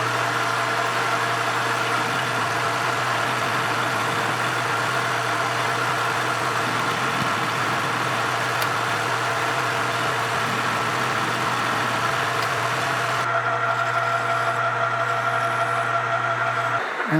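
Metal lathe turning a steel washer down to size in a workshop, a steady close motor hum with faint cutting texture throughout, no talking.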